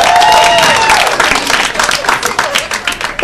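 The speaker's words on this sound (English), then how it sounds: "Are there single people here by applause?" Loud applause and cheers from single people in a comedy club crowd at Carolines, sustained clapping with whoops and shouts rising at the start and continuing steadily throughout.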